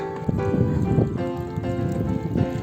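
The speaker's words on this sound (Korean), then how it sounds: "물소리 들려 물소리?" Water trickles and splashes steadily, with a bright burbling quality and some faint clattering underneath, fairly close.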